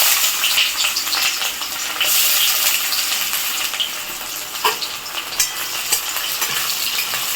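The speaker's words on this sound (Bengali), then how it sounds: "পেঁয়াজটা লাল করে ভেজে তুলে নেব।" Chopped onions fry in hot oil in a pan after dried red chillies, a steady loud sizzle with occasional stirring, no voices.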